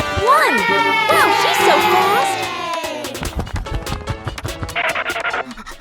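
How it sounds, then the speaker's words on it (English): Cartoon crowd cheering at a race, with excited voices and shouts rising into a busy clattering roar, while a narrator speaks over the start. "The cheers from the crowd get louder, and the tension rises."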